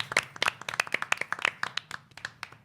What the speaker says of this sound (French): Monsieur Steve Gallet, que l'on peut applaudir s'il vous plaît.